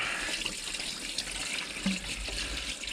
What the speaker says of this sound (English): we can pour water on the slot